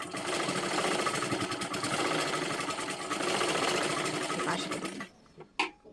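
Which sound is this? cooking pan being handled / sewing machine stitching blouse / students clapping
sewing machine stitching blouse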